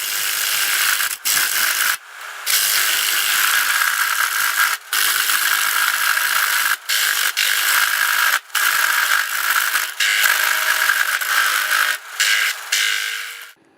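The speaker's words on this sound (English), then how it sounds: "If you put too much pressure on the gouge, you could make the whole bowl fly off the lathe at this point." A gouge scrapes a wooden bowl spinning on a wood lathe, making a loud, steady rasping whir that breaks off in short gaps now and then, close up, with no talking.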